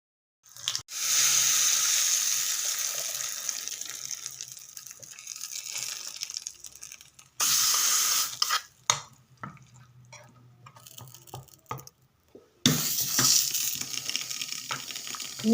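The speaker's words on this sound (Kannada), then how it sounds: "ಈಗ ಒಂಚೂರು ಒಗ್ಗರಣೆ ಪಾಡೋಡು." Tempering for a chutney sizzles loudly in hot oil in bursts, the frying hiss cutting off and returning as spices hit the pan, with occasional stirring clatter and no talk.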